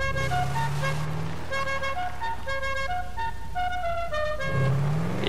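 A car horn in the game GTA V honks in a run of short, loud, tonal toots over the hum of the engine.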